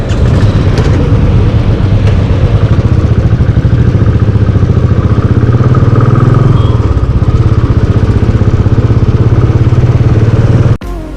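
Royal Enfield Classic 350 motorcycle ridden on the road from Mumbai to Lonavala, a loud steady thumping engine with wind rush heard up close, cutting off abruptly near the end.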